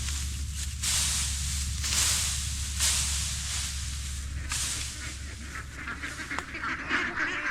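A duck being released outdoors near a fishing spot, giving repeated loud honking quacks in a steady series over a low background rumble.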